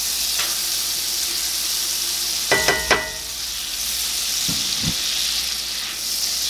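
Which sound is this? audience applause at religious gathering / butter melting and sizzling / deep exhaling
butter melting and sizzling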